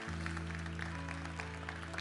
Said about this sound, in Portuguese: Aplauda ao Senhor com toda a sua força, com todo o seu amor, com toda a sua fé.